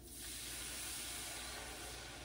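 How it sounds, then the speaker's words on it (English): Bacon sizzles loudly in a pan as milk is poured in, a sudden burst of steady broadband hiss that holds close and constant. "You can hear that sizzle."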